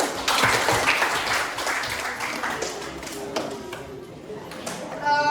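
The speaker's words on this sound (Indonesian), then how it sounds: "Ya, betul sekali, tepuk tangan." Classroom of students clapping, a busy spatter of hands that is strongest at first and thins out midway, with voices and scattered knocks mixed in before a brief swell near the end.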